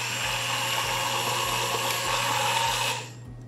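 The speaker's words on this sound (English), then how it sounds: "And then blend one more time." A blender whirs steadily and loudly while blending caramel St-Rémy cream, a dense continuous motor hum that winds down near the end.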